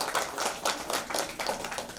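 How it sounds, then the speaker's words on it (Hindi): An audience at the Satyug Mahotsav spiritual festival claps steadily, a dense patter of many hands with uneven bursts throughout and no voices over it. "तो उनके लिए जोरदार ताली बजाएगा।"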